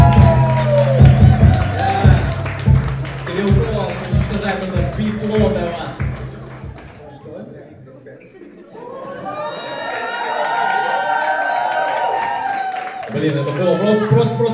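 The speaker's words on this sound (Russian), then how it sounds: "Можно еще одни раунд овации?" Applause and cheering from the audience fill a live meetup in a packed room, a dense wash of clapping and excited crowd voices that dips briefly and then surges back, with someone speaking over it near the start.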